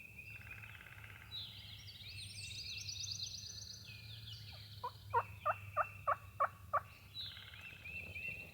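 A wild turkey gobbler in Alabama woods sounds off with a rapid run of about six sharp gobbling bursts, close and loud over steady low background hum, with other birds chirping and calling throughout.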